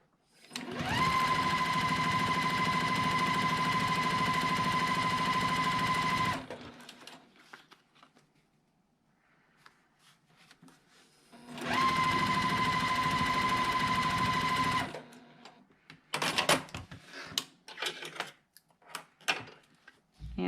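A sewing machine stitches a quilt 4-patch in two long, loud, even runs of rapid mechanical chatter, separated by a quiet pause and followed by scattered clicks and handling noises.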